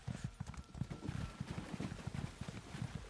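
Horse hooves clip-clop at a quick, steady rhythm as a mount travels in the video game The Elder Scrolls Online, with faint, soft repeated thuds and no talking.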